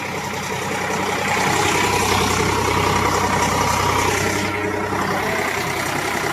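A tractor engine runs steadily beside a dam in cold weather, a continuous loud low rumble with a near-constant idle drone throughout, no voices.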